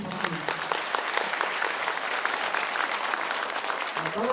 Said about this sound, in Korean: 이에 동의하시면 박수 한번 부탁드립니다.